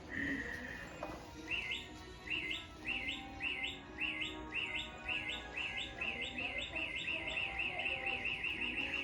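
Electronic bird chirps play from an R2-D2 droid app as a fast series of bright tweets repeating in a regular rhythm, with faint room noise beneath and no speech.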